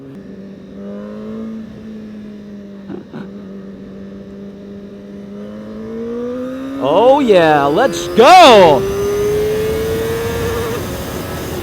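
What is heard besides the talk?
CFMoto 450SR motorcycle engine accelerating during ride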